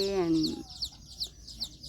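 Bantam chickens at a farm in Chanthaburi, Thailand, giving short, repeated clucks at an even rhythm, close by. A voice speaks briefly at the start.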